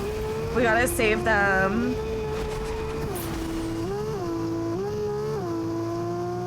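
Corvette engine revving as the car pulls away, a steady motor tone rising through several gear-like pitch shifts, close and loud beneath excited shouted talk at the start.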